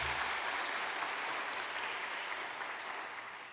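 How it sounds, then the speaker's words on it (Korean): Audience applause, a dense burst of clapping from many hands that holds steady and then gradually fades. "여기서 박수."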